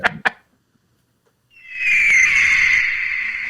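A person imitates an eagle call with a long, loud, shrill screech held for about two seconds. Two short sharp sounds come first, then a pause of near silence.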